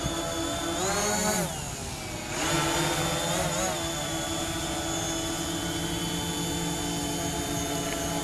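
A DJI Mavic Pro drone fitted with Master Airscrew propellers flies and hovers close by, its high whining buzz steady and loud, with brief pitch swoops as it manoeuvres early on before settling into an even drone.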